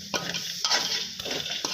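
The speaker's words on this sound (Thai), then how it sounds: "จากนั้นก็ใส่น้ำตาลปี๊บลงไปนะครับ ไม่ว่าจะเป็นน้ำตาลปี๊บนะครับ น้ำมันหอยนะครับใส่ลงไปได้เลยนะครับ ผัดช่วงนี้นะครับ" A spatula scrapes and clacks against a metal pan as palm sugar and oyster sauce are stir-fried, giving three or four rhythmic scraping strokes close up over a soft sizzle.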